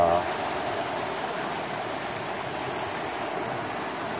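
Water flows steadily in a mountain valley stream in Baekcheon Valley on Taebaeksan, among pine trees and cliffs. It makes a continuous close rushing hiss with no breaks.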